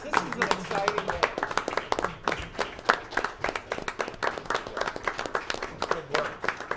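Scattered hand claps from an audience at a county board meeting rise and fall over about seven seconds, mixed with nearby voices talking throughout.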